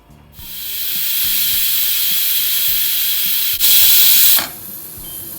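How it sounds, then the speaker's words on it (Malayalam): A pressure cooker cooking yam lets out its whistle, a long, loud, rushing hiss of escaping steam that builds, surges briefly louder, then drops back near the end, with no talking. "നമ്മുടെ ചേനയുടെ ഒരു വിസിൽ വന്നിട്ടുണ്ട്."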